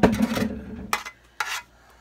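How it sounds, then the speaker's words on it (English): Metal utensil scraping strawberries off a cake pan for an upside-down strawberry cake: a long, loud grating scrape up close, then two short, sharp scrapes with silence between them. "That scraping noise is loud."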